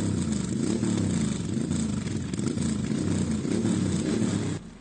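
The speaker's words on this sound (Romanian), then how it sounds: "Fără să ezite nicio clipă, Paula Iacob s-a urcat pe o motocicletă." Motorcycle engine running steadily at close range, a loud continuous mid-pitched drone with rough clattering texture that cuts off abruptly just before the end.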